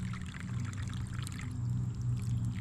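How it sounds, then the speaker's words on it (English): Water running from an outdoor garden hose into a container holding dyed fly tying materials, a close, continuous pouring and splashing with no one talking over it. "just take the water hose and start running a lot of water in this"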